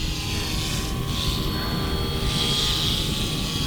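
Main and tail rotors of a brushless RC helicopter spinning steadily, a continuous close whir with a high whine and low buzzing flutter, holding level throughout with no talking.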